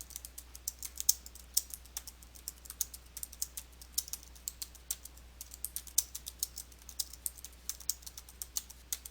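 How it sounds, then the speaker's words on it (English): Someone types on a computer keyboard in a quiet room, producing a steady run of light, distinct key clicks at an irregular pace over a low constant hum. "type the text using your keyboard"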